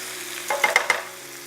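Redclaw crayfish cook flesh side down in butter and garlic with a soft, steady sizzle, broken midway by a quick cluster of three or four bright utensil clinks close by.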